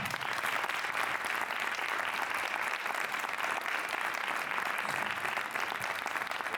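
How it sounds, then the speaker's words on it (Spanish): Dense, sustained applause from a crowd at a public presentation in Adra of the historical reenactment "Don Luis de Tovar," honoring José Espinosa, steady and full throughout with no voices rising above it. "Pido un aplauso para José Espinosa."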